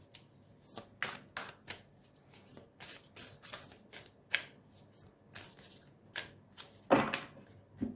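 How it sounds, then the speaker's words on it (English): Tarot cards are shuffled repeatedly, close up, in quick riffling bursts separated by short pauses, with a sharper snap near the end. "I'm shuffling these cards really badly today"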